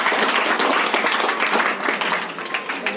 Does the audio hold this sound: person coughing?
no